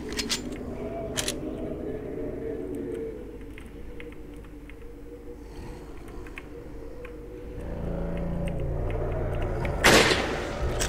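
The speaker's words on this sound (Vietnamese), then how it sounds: "Mình sẽ test thử cái độ chính xác cái súng nhắm này như thế nào nha." A scoped rifle fires in the video game Resident Evil 4, sharp reports cutting through a low rumbling in-game background, with a louder blast near the end.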